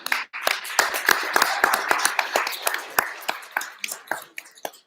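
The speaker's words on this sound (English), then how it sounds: "Round of applause for Josh and Carmen." Audience applause for venue hosts Josh and Carmen at a Detroit entrepreneur meetup, a moderate patter of individual hand claps, sparse and uneven, tapering into scattered final claps.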